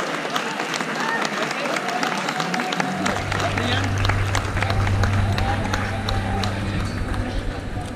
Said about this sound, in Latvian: Sagaidām mūsu šīs dienas varoņus ar skaļām ovācijām un vētrainiem aplausiem.